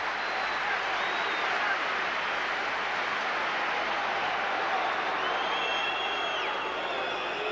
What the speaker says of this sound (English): Crowd urging him on.